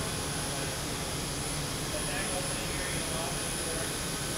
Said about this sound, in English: This is our engine compartment.